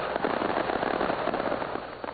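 Fireworks at a stadium celebration before a Corinthians football match, heard as a dense, continuous crackle of bursts and pops throughout, fairly loud, with no clear talk.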